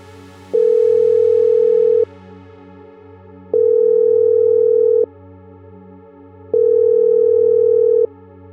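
A telephone ringback tone plays while a call is placed. Three loud, even tone bursts, each about one and a half seconds long, are separated by equal silent gaps.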